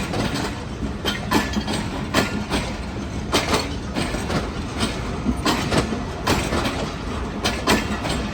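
A passenger train rolls along the rails between Karachi and Nawab Shah, its steady rumble carrying a repeated clickety-clack of wheels over rail joints, loud and continuous throughout with no talk.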